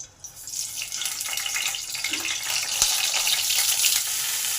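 Pointed gourd (potol) dropped into hot oil sets off a bright, hissing sizzle that swells and holds steady, close by with no talk.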